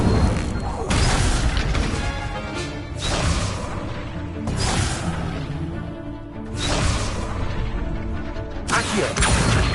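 Fire spell cast in the wizarding video game Hogwarts Legacy, a series of whooshing bursts and booms repeating every couple of seconds over game sound.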